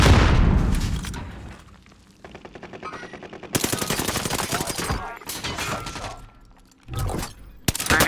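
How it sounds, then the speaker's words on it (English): A sniper rifle fires in a video game, sharp loud gunshot cracks and bursts of rapid gunfire ringing out over several seconds, with a big report near the middle and more shots toward the end. "I'm gonna hit a single shot on him."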